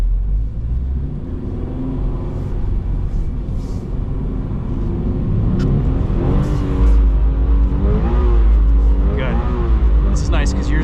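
A 2022 Subaru BRZ engine drones and revs steadily under throttle through a drifting slide, its pitch rising and falling with tire noise, close and loud beneath people talking.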